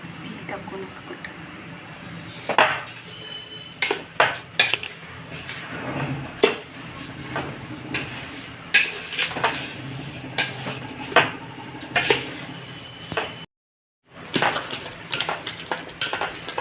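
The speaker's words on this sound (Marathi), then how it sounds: "तर बघा साखर आंब्याला मी अधूनमधून हलवत राहायचं म्हणजे खाली चिटकणार नाही." Mango pulp cooking with sugar in a large pot gets stirred now and then, with repeated scraping clinks of a spoon against the vessel over a low simmer, close by, while a voice talks throughout.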